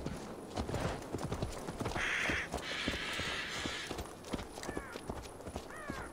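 Steady clip-clop of a ridden horse's hooves at a brisk, regular gait in the video game Assassin's Creed Valhalla, with a bird cawing in the background partway through and a couple of chirps near the end.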